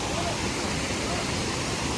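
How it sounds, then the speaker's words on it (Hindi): Steady, close roar of the main waterfall in Gangtok, Sikkim, a dense rushing wash of falling water that continues without pause, while a voice talks over it. "एंड देन ये मेन वाटरफॉल।"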